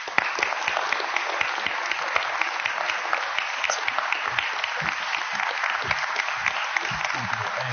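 Sustained applause from an indoor audience welcoming Bilawal Bhutto Zardari, dense, even clapping that stays loud and steady throughout, with no voices over it.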